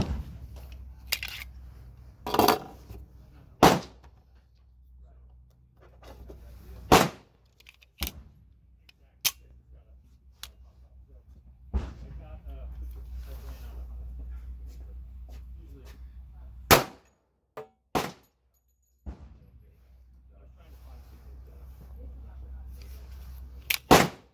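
A Tisas Bantam pistol is handled after a malfunction, with sharp metallic clacks and snaps of the slide and slide lock scattered irregularly over a low background rumble and occasional talk.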